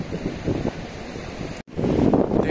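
Wind blows steadily by the Ganga river at Rishikesh, buffeting the microphone as a low, rushing roar that briefly cuts out and then returns stronger, with no voices.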